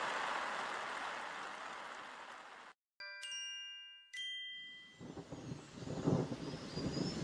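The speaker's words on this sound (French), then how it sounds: "un orage éclata et il commença à pleuvoir" A thunderstorm with rain breaks out beside a river: a steady broad rain hiss, a break broken by bright chiming tones, then low rumbling thunder and heavier rain building toward the end, with no talk.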